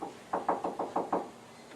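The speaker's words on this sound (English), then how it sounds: "So I knocked on the door." Six quick, evenly spaced knocks on a door, crisp and fairly close, heard alone in a quiet room.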